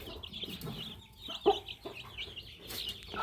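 A bantam hen clucking nearby, a few short, soft clucks spaced irregularly over quiet background, with one brief louder note in the middle.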